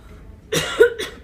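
A few harsh coughs from a person struck by an asthma attack, two close bursts in quick succession, loud and near with no talking over them.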